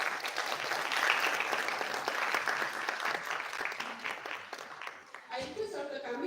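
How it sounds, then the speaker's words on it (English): An audience at a conference valedictory session claps to welcome speakers to the desk, a sustained round of applause that thins toward the end as a voice begins speaking over it. "join me in welcoming them with a warm round of applause"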